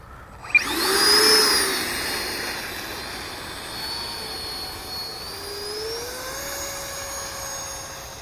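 A Freewing RebelV2 radio-controlled electric ducted-fan jet takes off with flaps down, a sharp whine rising loudly and close, then holding as a thin, steady whir that slowly fades and shifts in pitch as the model climbs away.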